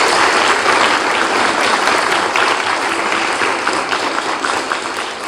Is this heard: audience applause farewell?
yes